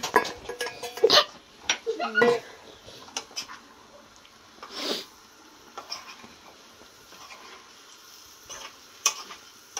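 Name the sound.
vegetables and two potatoes added to a hot pan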